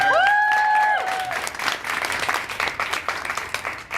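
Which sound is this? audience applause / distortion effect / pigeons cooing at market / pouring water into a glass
audience applause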